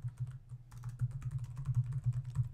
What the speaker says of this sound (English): So now I'm going to start typing some more.